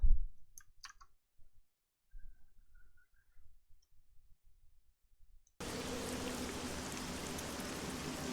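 Steady hiss of rain falling in the video game Midnight Suns, starting abruptly after a stretch of near silence with sparse faint clicks, then continuing loud and even to the end.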